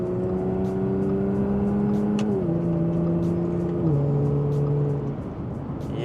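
A 400HP Audi S4 downshifts and pulls hard uphill to pass, its engine droning steadily loud with pitch stepping down at each gear change, under constant wind and road roar.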